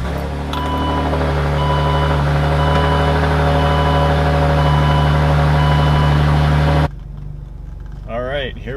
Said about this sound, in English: so let's start her up and go for a drive.